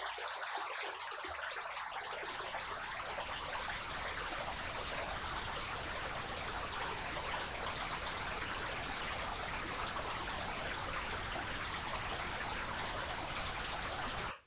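Synthesised water built in Ableton Live from a water signal blended with noise gives a dense, steady rushing hiss like a stream or heavy rain, continuous and even throughout with no voices.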